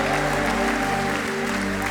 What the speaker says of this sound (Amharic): ጭብጨባችን ይሁንለት